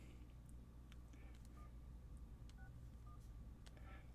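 Several short touch-tone beeps from a phone keypad as a number is dialed, spaced irregularly over a steady low background hum in a convention hall setting.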